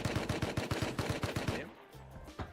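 Rapid automatic gunfire in a video game, about a dozen evenly spaced loud shots in a quick burst that cuts off, followed by a couple of fainter sounds.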